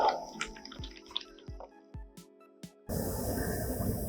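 Water drips at a spring in a Lithuanian village, with clear single drops falling at an uneven pace in a quiet space before a sudden burst of louder flowing, splashing water.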